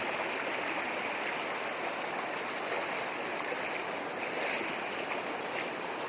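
A clear mountain stream flows and splashes steadily over rocks, a constant, close rushing of water with no voices.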